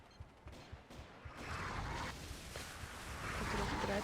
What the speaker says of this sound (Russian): И пошла артиллерия